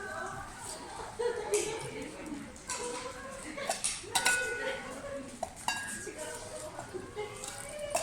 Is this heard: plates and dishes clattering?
yes